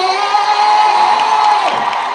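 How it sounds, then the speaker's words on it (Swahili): A large crowd at a funeral ceremony in Kenya cheers and shouts loudly in a steady, continuous roar throughout. "Wapi makofi ya Eriko?"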